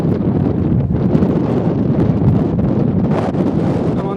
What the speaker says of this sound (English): I'm on top of Kinder Scout and it's very, very windy.